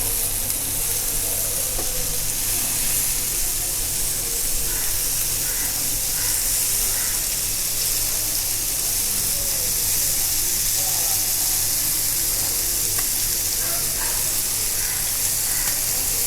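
Fish frying in a pan for viral meen varuval, a continuous bright sizzle and hiss with occasional soft stirring clatter, steady and close throughout.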